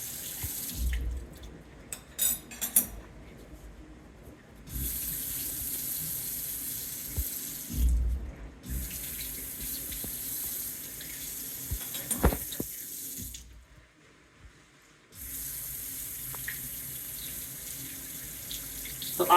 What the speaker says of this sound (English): we are going to rinse our instruments with scrub and detergent and water for 20 minutes